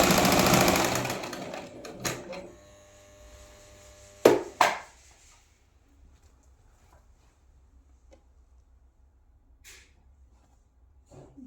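An electric sewing machine stitches lace onto palazzo pants in a quick, close whirring burst at the start, followed by a few sharp knocks and quiet handling noises.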